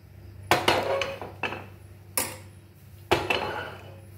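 A spoon stirring homemade rice paste into olive oil in a pan for sada pithe, heard as four separate clattering scrapes and knocks spaced about a second apart, close up, with no talking.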